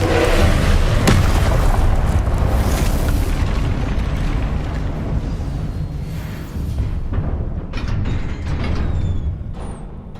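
A Confringo explosion spell in Hogwarts Legacy bursts with a loud boom at the start, followed by a long rumbling, crackling roar of fire and debris that stays dense and loud, with smaller bursts later.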